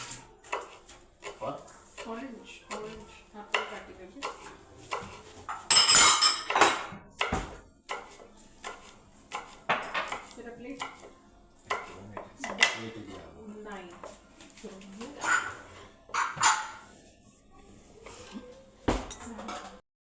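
A green chili cut with a knife on a board: a series of sharp, irregular chops and knocks with some clinks of kitchenware, heard close and interleaved with a person talking.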